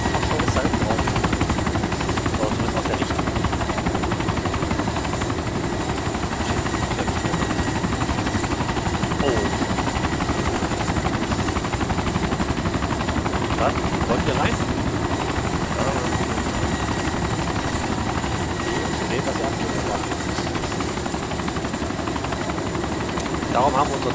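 A helicopter flies in the survival game DayZ, its rotor and engine drone loud and steady for the whole stretch with no breaks.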